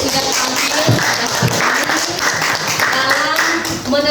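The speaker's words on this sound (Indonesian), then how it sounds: "Tepuk tangan buat semua kelompok yang sudah tampil" Classroom applause from students clapping for the groups that have just presented, a dense steady patter filling the whole span with voices talking over it.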